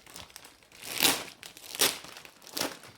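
Crinkly packaging around retro Pokémon card holders is torn open in three loud, close bursts of crackling plastic, separated by quieter rustling.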